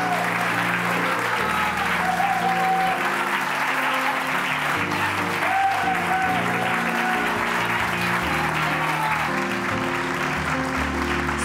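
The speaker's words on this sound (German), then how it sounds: "einen schönen Applaus, ruhig ein bisschen vor" Steady applause from the audience for prize winners gathered on stage at the 2022 Zugabe award ceremony, dense and even throughout, with sustained music-like tones running beneath it.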